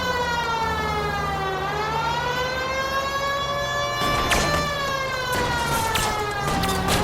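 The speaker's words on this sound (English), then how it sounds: "Turn that siren on for real this time." A police car siren wails in the video game L.A. Noire, a loud, close, harmonically rich tone that sweeps steadily up and down, with brief bursts of clatter and engine noise joining in partway through.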